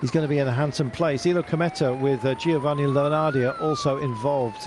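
Someone talks steadily while a wailing siren rises and falls faintly in the background, near the finish of a cycling road race stage.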